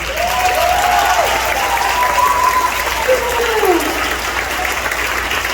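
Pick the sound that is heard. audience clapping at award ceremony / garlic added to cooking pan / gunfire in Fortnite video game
audience clapping at award ceremony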